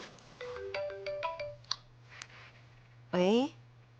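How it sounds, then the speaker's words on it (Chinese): A mobile phone ringtone plays a quick run of bright electronic melody notes, close and clear, and a short voice comes in after it. "我电话响了"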